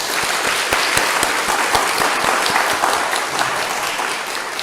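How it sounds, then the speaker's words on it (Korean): Applause from an audience at a hospital staff retreat, a steady dense clapping that stays loud and close throughout with no voices over it. "하나님께 영광의 박수 드리겠습니다."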